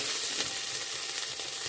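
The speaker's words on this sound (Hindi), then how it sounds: "अब इसमें हम अदरक और हरी मिर्ची कूटी वो डाल लेंगे और इसको भी हम फ्राई कर लेंगे।" Crushed ginger and green chili frying with garlic in a pot for desi chicken soup, a steady close sizzle hissing throughout with a faint stir and clink near the start.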